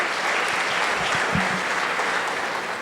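A church congregation applauds during a Baptist sermon, producing a full, continuous wash of clapping from many people, loud and close with a brief low thump partway through.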